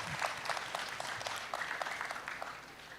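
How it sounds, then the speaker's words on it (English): Moderate applause from a conference hall audience at a national career conference, with distinct claps rising through a steady wash and continuing evenly for a few seconds. "Let's give him a clap."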